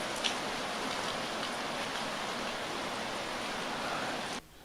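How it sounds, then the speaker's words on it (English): Dense, steady downpour hisses evenly for several seconds in Bale Mountains National Park, Ethiopia, before cutting off abruptly near the end. "seen here in the all too frequent and heavy rain."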